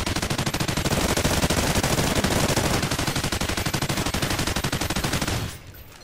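Sustained rapid automatic gunfire from Call of Duty: Ghosts, loud, dense and unbroken for several seconds before cutting off abruptly near the end.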